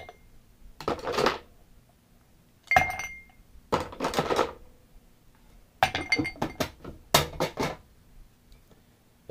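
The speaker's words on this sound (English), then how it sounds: "put some ice in your glass, your shaker." Ice cubes drop into a glass cocktail shaker in several separate clattering bursts, sharp clinks and rattles spaced a second or two apart with quiet gaps between, heard close up and without talk.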